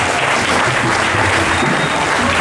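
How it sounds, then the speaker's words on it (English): Students clapping at a school Durga Puja event, loud continuous applause from a large crowd with no talking over it. "keep clapping for Dr."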